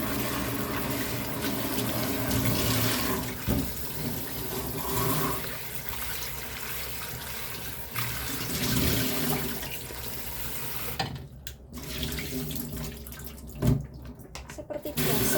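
A tap runs steadily while food is washed for cooking, a loud continuous rush of water broken by splashes and sloshing as the flow shifts near the end.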